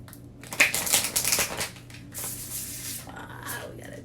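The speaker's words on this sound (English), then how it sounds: "Let's get a good shuffle. Can we get a good shuffle" Tarot cards are shuffled up close, a quiet run of riffling, rubbing and papery flicks in uneven bursts, with a faint voice underneath.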